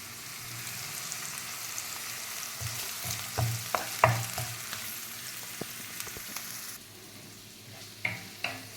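Cauliflower fries steadily in a pan, giving a continuous soft sizzle with occasional sharper pops and clicks of stirring, moderately close and without any talk.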